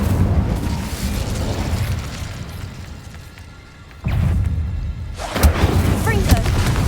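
An Incendio fire spell bursts in the Hogwarts Legacy video game, a loud booming blast that erupts suddenly over constant game noise and is followed by a second, sharper burst.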